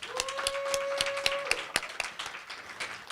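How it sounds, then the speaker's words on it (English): Sparse, individual claps ring out at a conference as people applaud award recipients, with a steady tonal hum running beneath the claps before they thin out. "Let's give them a round of applause."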